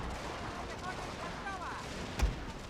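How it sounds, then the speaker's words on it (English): Cannon fire rings out in a Total War strategy game battle on the Russia campaign, one sharp boom standing out over a steady low background of distant battle noise. "Sir, a unit has fired off all its ammunition. That would be the cannons."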